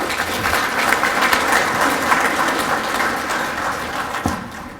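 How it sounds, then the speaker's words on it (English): An audience at a cotton commission annual meeting lunch gives a round of applause, a dense sustained patter of many clapping hands that tapers near the end. "let's just give them a round of applause real quick"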